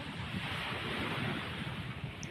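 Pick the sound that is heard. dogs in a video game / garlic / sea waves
sea waves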